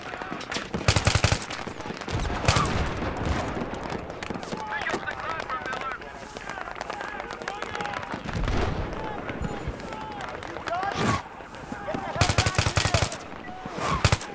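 Battlefield video game gunfire rattles in bursts throughout, with dense automatic fire and sharp shots close by, some loud volleys near the start and end, mixed with game noise and occasional player talk.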